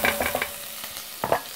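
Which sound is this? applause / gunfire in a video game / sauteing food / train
sauteing food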